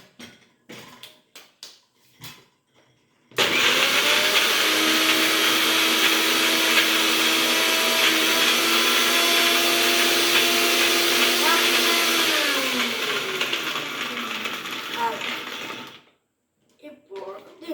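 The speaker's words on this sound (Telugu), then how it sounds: "ఇప్పుడు దీన్ని మిక్సీ పట్టాలి." A mixer grinder blends a chocolate Oreo milkshake, a loud close whirring motor roar that starts abruptly after a few brief knocks, runs steadily for about twelve seconds with its pitch winding down near the end, then cuts off.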